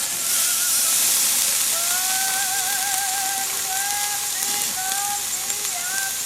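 Flank steak sizzles over very hot direct heat on a grill, a loud, constant steamy hiss that fills the whole stretch, with faint voice-like tones drifting underneath.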